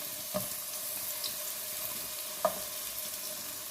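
Onions browning in hot oil in a pan after chicken has been fried, a soft continuous sizzle with two sharp utensil knocks against the pan, fairly quiet and with no voices.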